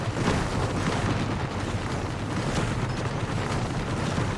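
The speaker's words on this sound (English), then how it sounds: "Fireworks in the lobby." Fireworks go off in a video game lobby as a dense, continuous crackling and booming burst that stays loud and even throughout.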